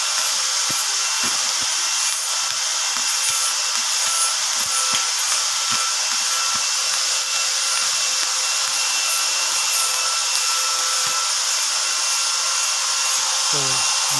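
Stainless steel is being welded, giving a loud, continuous crackling hiss that holds steady throughout with faint irregular pops underneath.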